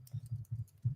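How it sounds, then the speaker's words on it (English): Keys tapped on a computer keyboard during a live chat about LEGO sets: several quick, soft clicks in irregular bursts, close and fairly quiet, with no talking. "I'm going to go ahead and type this into the chat so we can get it going quicker."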